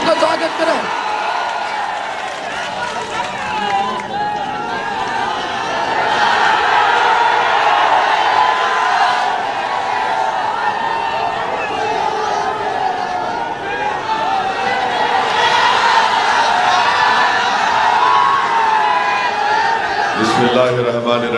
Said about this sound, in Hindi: जोरदार तालियों से बैरिस्टर साहब का स्वागत करें।